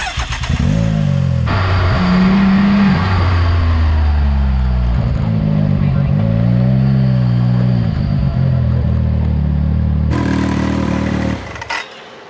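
A Mitsubishi Evo accelerating hard on a drag run, its engine revving up through several gear changes in a loud, close, rising and falling roar that cuts off near the end.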